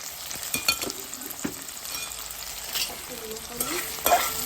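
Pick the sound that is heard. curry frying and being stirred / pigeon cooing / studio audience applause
curry frying and being stirred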